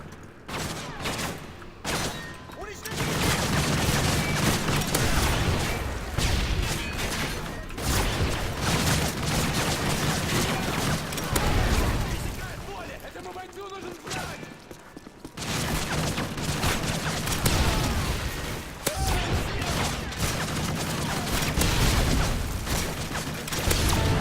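Sustained AK rifle fire in Modern Warfare 3, dense rattling bursts with mechanical clatter that run almost continuously, broken by a few short pauses.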